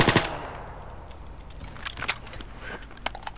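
A grenade going off in STALKER Anomaly: a loud, abrupt blast at the very start, then scattered gunfire cracks and clatter at moderate distance.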